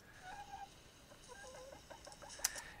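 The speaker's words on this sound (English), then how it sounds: "I've got a big chunk here with chickens in my chicken coop." Chickens clucking inside a chicken coop, soft scattered clucks and calls heard faintly at a distance against a steady hiss.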